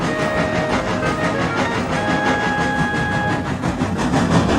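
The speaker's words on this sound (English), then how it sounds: "As the sun set, Percy puffed to the sheds." A steam locomotive rolls along with a steady rumbling chug and rhythmic rail clatter. It is loud and continuous, with faint whistle-like tones above it, heading into the engine sheds at sunset as a story sound effect.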